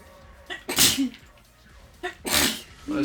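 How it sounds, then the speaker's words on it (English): Two sharp sneezes about a second and a half apart, each with a quick intake before a loud burst, heard close with quiet room tone between them. "Bless you."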